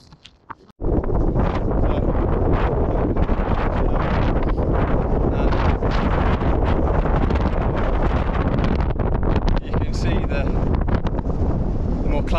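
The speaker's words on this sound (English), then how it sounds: "I think I'll be running into the wind the whole way back." Heavy wind roars and buffets a microphone continuously after a quiet first second while a runner heads into it outdoors near the Yorkshire Three Peaks, loud and close throughout.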